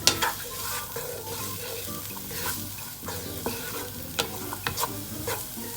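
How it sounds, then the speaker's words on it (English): Diced carrots, beans and sweet corn sizzle and fry in a pan for homemade vegetable fried rice, with a spatula stirring and scraping in sharp intermittent clatters over the continuous hiss. "And saute them very well."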